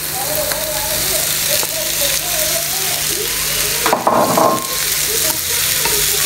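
Sausages fry in a pan with a steady, close sizzle, broken near the four-second mark by a louder burst of crackling and spatter, while indistinct voice-like tones run faintly underneath.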